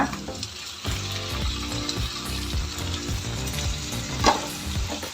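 Chopped tomatoes and onion fry in oil in a pan for capsicum masala curry, giving a steady, moderate sizzle with a brief sharper clink or stir partway through.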